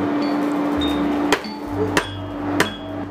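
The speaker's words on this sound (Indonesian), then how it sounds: "suara palu beradu dengan besi adalah tandanya akan muncul sebilah keris baru" A hammer strikes iron while a keris blade is forged at a village smithy in Wiyodiharjo: three sharp metallic blows about a second apart ring over a steady workshop hum and low rumble. No talk.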